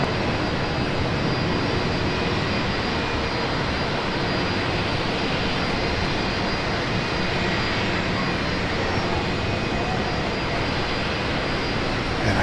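A Qantas Boeing 787 at Brisbane Airport gives a steady, broad roar of jet engines, loud and unbroken throughout, heard from outdoors near the field.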